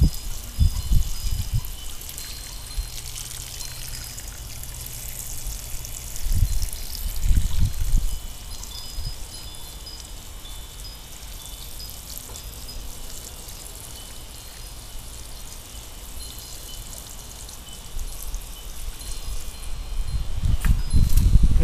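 Rainwater from a barrel, driven by a new solar-powered pump, trickles and splashes into hanging baskets outdoors; a steady light water patter runs throughout, with a few louder low thumps near the start and end and no talking.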